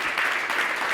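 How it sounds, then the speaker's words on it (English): Audience applause at a tech business conference session on diversity and inclusion, a steady wash of clapping throughout a single second with no voices. "Let's give Lottie and Rumman a amazing applause"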